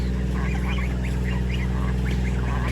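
Several geese honk repeatedly over a loud, steady background hum, calls overlapping in quick bursts nearby.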